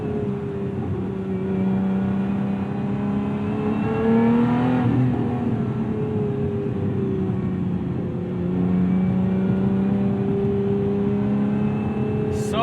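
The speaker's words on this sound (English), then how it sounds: "I always feel like double clutch downshifting into second in this car" A 2024 Lotus Emira sports car's engine drones steadily from inside the cabin, with a brief rev blip around a double-clutch downshift into second gear, then a sustained pull as it accelerates.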